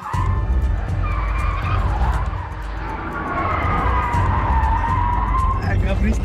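Rolls-Royce sliding through a durability test, long wavering tyre squeals over a loud engine rumble, continuous and close, with people talking over it.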